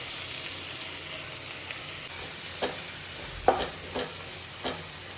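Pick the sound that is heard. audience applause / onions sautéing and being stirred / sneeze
onions sautéing and being stirred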